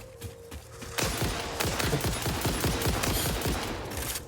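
Sustained rapid gunfire in the video game Satisfactory, a steady rattling burst of evenly spaced shots that starts abruptly after a second and continues loudly without talk.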